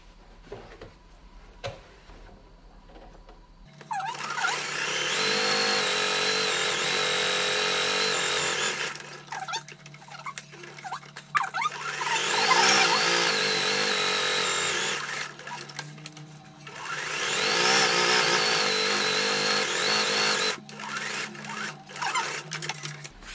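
A sewing machine stitches the floral side of a reversible fabric drawstring pouch, running in three long steady bursts of dense mechanical whirring with short quiet pauses between them.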